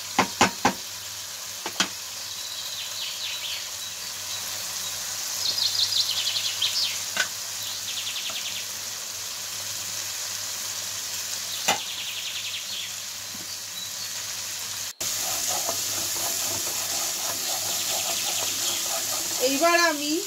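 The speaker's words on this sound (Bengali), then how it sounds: "এবার মশলাতে আমি কষতে দেব।" Spices sautéing in a pan for Kolkata street-style dum aloo, a soft steady sizzle with occasional sharp knocks and clinks of stirring, growing louder in the later half.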